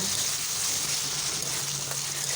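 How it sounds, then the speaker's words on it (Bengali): Semolina and ash gourd halwa with cardamom powder sizzles steadily in a frying pan while being stirred, a soft continuous frying hiss with faint scraping, no voices. "এখন আমি এলাচ গুঁড়ো দিচ্ছি, একটু নাড়াচাড়া করব"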